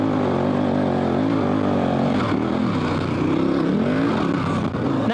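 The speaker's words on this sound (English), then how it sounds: "I'm gonna go ahead and get it into second gear here quick and see if we can't power up this thing a little bit quicker" An adventure motorcycle on Michelin Anakee Wild 50/50 tires pulls hard in second gear along a dirt trail, its engine drone loud and steady with pitch sweeping up and down as throttle changes.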